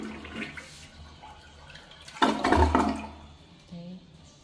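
A toilet flushes with a short rushing surge of water, preceded and followed by quieter handling noises and faint background sounds.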